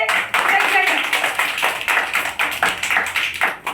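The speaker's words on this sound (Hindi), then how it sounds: "एक ताली बजाओ" Children clap their hands in a classroom number game, a run of quick, uneven claps mixed with a teacher's voice and kids talking close by.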